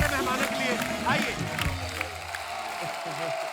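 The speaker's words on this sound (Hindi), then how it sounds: "एक बार जोरदार तालियां हमारे मेहमानों के लिए।" Studio audience applauding guests on a comedy talk show, a continuous patter of clapping with some cheering, heard under a voice talking over it.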